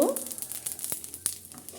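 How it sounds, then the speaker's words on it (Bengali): Panch phoron spices and whole dried chillies sizzle in hot oil in a pan, a close, crackling fry with quick sharp pops over a short burst. "কিছুটা পাঁচফোড়ন দিয়ে দেব"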